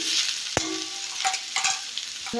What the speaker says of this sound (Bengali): ওলকপি আর আলুগুলো দিয়ে দেবো, একটু ভেজে নেব।